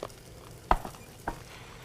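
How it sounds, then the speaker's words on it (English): Smoked pork frying in hot oil in a pan, a soft steady sizzle with a few sharp pops and clacks of stirring, fairly close, no talking. "Smoked pork and oil. Ooh, I like the sizzle."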